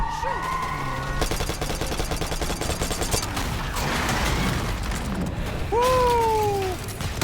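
Gunfire in the video game Call of Duty: Black Ops 6, a loud rattling stretch of rapid automatic shots close by, followed by scattered impacts and game sounds, with brief voices around it.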